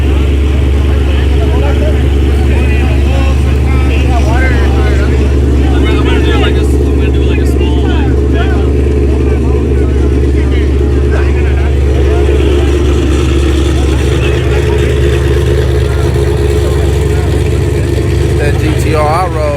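A hoodless Nissan GT-R runs at a snowy daily-driver shootout, its steady engine drone mixed into loud crowd chatter and other vehicles throughout.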